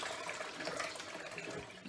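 Water drains slowly down a kitchen sink, a steady, close gurgling wash that continues evenly throughout.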